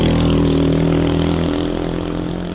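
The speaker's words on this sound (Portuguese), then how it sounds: "só esperar a moto passar aqui." A motorcycle engine hums loud and close with a steady droning tone, fading slightly as it moves past on the street, with no talking.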